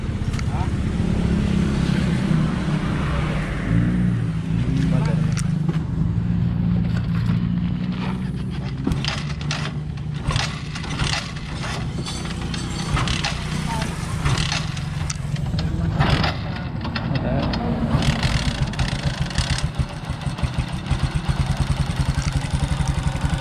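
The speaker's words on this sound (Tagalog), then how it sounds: "umaandar na yung ating Badja 125 ano" A Bajaj CT 125 motorcycle with a Honda Supremo CDI fitted idles steadily nearby, a continuous rumbling engine note with some clatter, while someone talks over it throughout.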